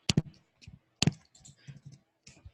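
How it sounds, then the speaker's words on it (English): Bursts of clicky keystrokes on a computer keyboard, two sharp clusters about a second apart followed by lighter scattered taps, fairly close and with no talk over them. "It looks like, Lucas, you might have been typing down below"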